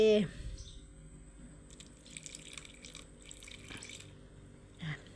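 Vegetarian fish sauce is poured into a Thai papaya salad, giving a faint liquid trickle and soft drips close by. A voice speaks briefly at the start.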